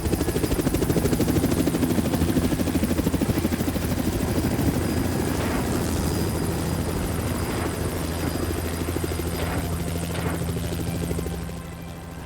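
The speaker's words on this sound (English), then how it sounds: "Helicopters thundered into Kabul." A helicopter's rotor chops in a fast, steady throb with a droning engine, loud and sustained, fading slightly at the end.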